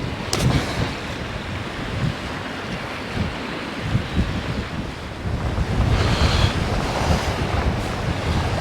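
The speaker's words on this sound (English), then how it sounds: "Howling wind." Gusting wind roars steadily over crashing surf on the Bristol Channel coast, with buffeting blasts hitting the microphone, loud and close throughout.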